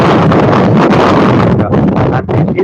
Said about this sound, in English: it is rather windy here in Athens